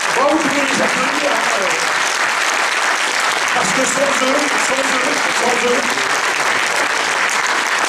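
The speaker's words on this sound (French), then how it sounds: "vous pouvez les applaudir" Concert audience applauding the sound and screen technicians, a steady roar of clapping throughout, with someone speaking over it near the start and again partway through.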